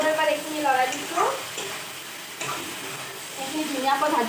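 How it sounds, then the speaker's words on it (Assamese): Vegetables for an Assamese dish fry in a pan, with steady sizzling under scraping stirs of a spatula, while someone talks over the cooking in bursts. "এইখিনি ধুনীয়াকৈ ভাজি লোৱা হৈছে,"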